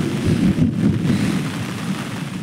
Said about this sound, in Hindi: बारिश काफ़ी तेज़ है